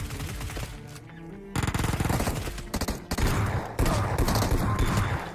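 Rapid bursts of gunfire from the PUBG video game, including a shotgun, crackle in dense volleys, loud and close, with brief gaps between bursts.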